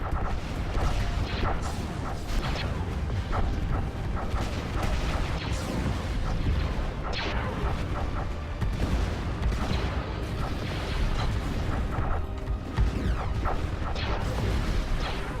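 Continuous booming explosions and rattling weapon fire as battleships are destroyed in a Stellaris space battle, dense and loud throughout with no pause.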